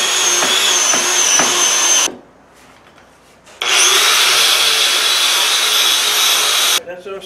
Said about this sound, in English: so we're going to clean it up with a wire brush